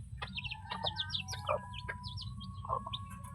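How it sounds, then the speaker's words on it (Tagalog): Close, quiet clucks and chirps from a backyard chicken, in short irregular bursts over a low background hum. "Ito yung isang manok ko."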